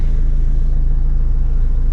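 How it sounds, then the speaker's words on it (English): A car rolls steadily along the road with a constant low engine and road rumble, loud and close from inside the cabin, with no talk and no change in pace. "I'm just now driving to my co-working space"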